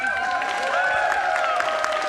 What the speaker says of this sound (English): you can hear from the crowd reaction